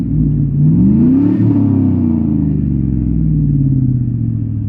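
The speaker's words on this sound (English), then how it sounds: "I'll give it just a few revs just to see what you guys can hear." A 2001 Chevrolet Silverado with a Black Widow Neighborhater exhaust and 8-inch tip, heard from inside the cab as the engine revs up in a rising sweep, peaks, then settles back to a deep throbbing idle, loud and close.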